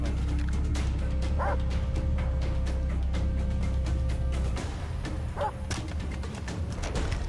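A dog barks a couple of times over steady game background noise and voices in Far Cry 3, the barks short and mid-distance.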